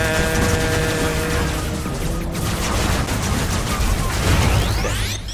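Submachine gun fire in a video game, heard as a dense, continuous rapid burst of shots with mechanical clatter, loud and close throughout.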